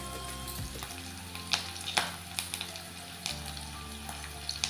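Curry leaves frying in hot oil for a lemon rice tempering, giving a steady close sizzle with scattered crackles and pops, alone without voices.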